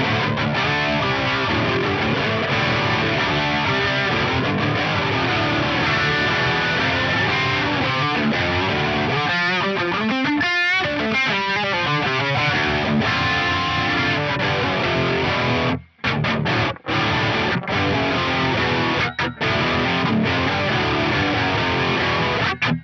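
A distorted electric guitar run through a Yamaha GEP 50 effects unit in a parallel mix with an Atomica, playing a continuous processed tone with swirling modulation midway and a couple of brief dropouts late on.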